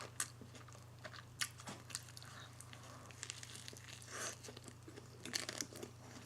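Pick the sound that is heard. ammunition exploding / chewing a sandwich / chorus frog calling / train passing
chewing a sandwich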